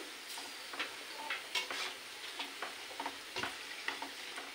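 Chips fry in hot oil with a busy crackling sizzle, punctuated by sharp pops and light clinks from stirring in the pan, close up and fairly loud.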